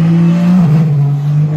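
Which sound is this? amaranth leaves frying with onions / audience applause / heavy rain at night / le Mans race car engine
le Mans race car engine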